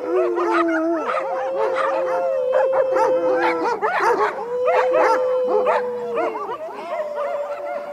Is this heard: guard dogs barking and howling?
yes